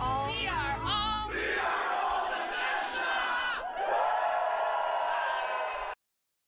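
A crowd in a large conference hall during the Bethesda E3 presentation bursts into loud, sustained screaming and cheering, with one voice rising in wavering shrieks at the start before the whole audience roars continuously for several seconds.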